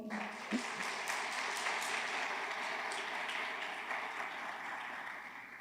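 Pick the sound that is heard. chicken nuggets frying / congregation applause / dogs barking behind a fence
congregation applause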